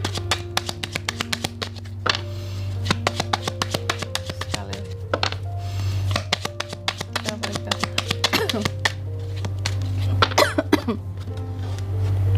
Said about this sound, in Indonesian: Sorry ya teman-teman, aku ada batuk-batuk sedikit.